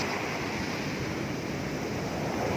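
Strong ocean waves at a beach on a rough afternoon, a steady broadband wash of surf mixed with wind rumble, close and continuous with no voices.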